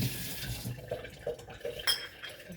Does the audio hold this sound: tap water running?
yes